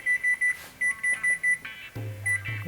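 An oven timer being set beeps in a home kitchen, a string of short, sharp, evenly spaced electronic beeps followed by a lower sustained tone, loud and close with no talk.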